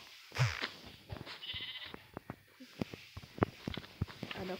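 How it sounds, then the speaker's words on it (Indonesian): A goat in the Minecraft video game gives short nasal bleats amid a string of clicky game sound effects, at moderate volume and fairly close, with no voices. "Ada kambing ganggu aja tuh."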